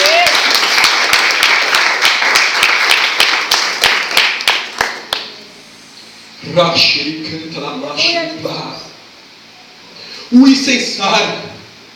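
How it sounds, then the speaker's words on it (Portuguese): A church congregation claps along in a steady beat for several seconds. The clapping then stops and a preacher's voice carries on alone. "Se você crê, aplauda ao Senhor, no nome de Jesus."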